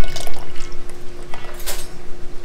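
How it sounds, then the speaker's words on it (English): Melted butter poured into a mixing bowl for dinner roll dough, a short close trickle with soft splashes and a few brief spattering bursts, heard alone with no talk. "we have the melted butter. Let's just go ahead and pour that in."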